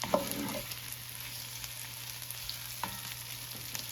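White onions frying in a pan over medium heat give a soft, continuous sizzle close by, broken by a few light clicks of stirring, with no talking.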